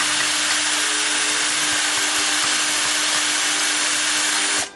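A power tool whines loudly and steadily while riveting a part into a Class D amplifier case, holding one strained pitch throughout before cutting off abruptly at the end.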